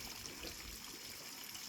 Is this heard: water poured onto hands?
yes